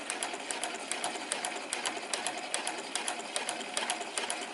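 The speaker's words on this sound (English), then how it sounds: "Now I'm going to stitch again from this point" A sewing machine fitted with a walking foot stitches through a quilt in a fast, even run of mechanical ticks and whirring, steady and moderately close with no pauses or talk.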